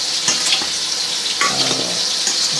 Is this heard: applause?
no